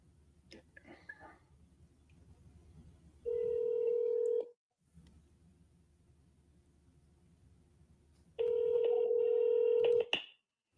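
A telephone dials out to a seller: faint background murmur, then two long steady tones with beeping, separated by a short pause, ending in a quick click.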